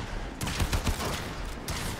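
Rapid overlapping shotgun blasts from enemies in Warframe, a dense crackling volley of close, loud shots over a constant roar of game noise.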